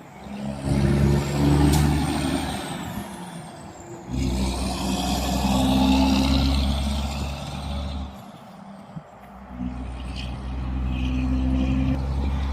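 A tanker truck rolls past on a city road in Hamilton, Canada, a loud continuous engine rumble swelling and fading in broad waves, with brief hissing bursts like air brakes and other traffic around it.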